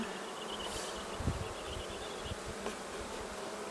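Bees from a spring hive inspection drone in a steady, continuous buzz close to the microphone, with a few brief soft knocks from handling the hive frames.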